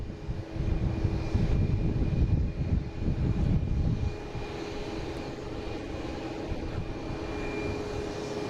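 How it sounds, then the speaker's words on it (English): A Delta Airbus A330-300 arriving from Barcelona at Boston Logan rumbles in with a steady engine drone, heavier low roar for the first few seconds before easing to a softer, even hum, with no voices. "next coming in is a Delta coming from Barcelona."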